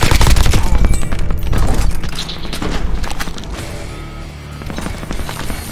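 Loud, dense gunfire and booms in a Call of Duty match, rapid overlapping shots and blasts that stay strong for several seconds before easing slightly.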